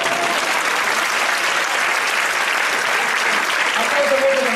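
Audience at a magic gala in Leganés applauding continuously, a dense steady roar of clapping from a full crowd that holds throughout, with a voice faintly heard under it.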